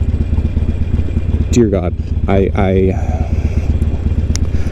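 A Harley-Davidson Iron 883 motorcycle idles with a loud, steady low rumble from start to finish, while a person briefly talks over it partway through.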